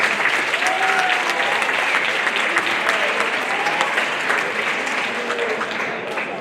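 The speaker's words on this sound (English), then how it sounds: "them all another round of applause." A crowd gives sustained applause at a student Black History Month event, a thick, even rush of many hands clapping at close range with a few faint voices mixed in, tapering slightly toward the end.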